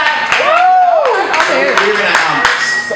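Audience clapping and cheering at a live show, a steady dense wash of hand claps with whoops and loud voices over it, close and sustained throughout.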